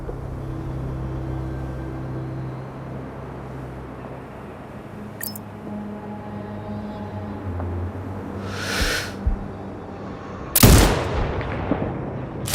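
A sniper rifle shot in the video game Sniper Ghost Warrior Contracts 2 cracks loudly once near the end, following a softer distant shot, over a steady low ambient rumble with no talk.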